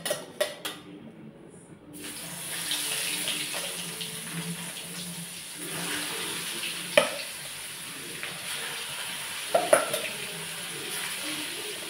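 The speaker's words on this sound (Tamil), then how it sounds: "இப்போ மசாலா போட்டு விரசி வச்சுருந்த கத்திரிக்காயை பொரிச்செடுத்துடலாம்." Brinjal pieces coated in masala frying in hot oil, a steady close sizzle with occasional stirring clatters and sharp pops, no talking.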